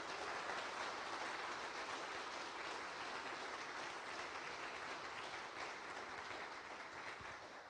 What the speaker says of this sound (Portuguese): Você pode aplaudi-lo por essa verdade?